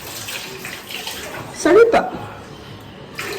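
Tap water runs steadily into a basin during washing, a constant splashing hiss at moderate level, while a child and an adult speak briefly over it.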